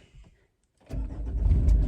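A car engine cranks and catches after a brief quiet pause, then settles into a close, steady idle rumble.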